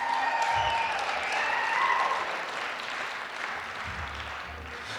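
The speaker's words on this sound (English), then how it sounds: "can we give a round of applause for the mothers of the community" A community gathering applauds its mothers at a recovery outreach event: a moderate, fairly distant patter of many hands, strongest at first and then easing off, with faint crowd murmur beneath.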